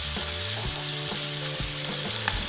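Spices with tomato, turmeric, cumin and chili powder sizzle and fry loudly in a pan for raw banana kofta curry masala, a constant close hiss with rhythmic scraping stirs about every half second.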